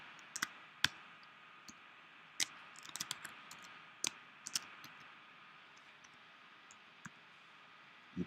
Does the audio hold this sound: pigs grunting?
no